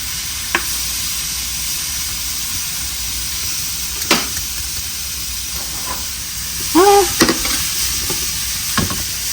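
Green beans and garden eggplant frying in a pan give a steady sizzle with occasional stirring clinks and scrapes, close and moderately loud, with no talking.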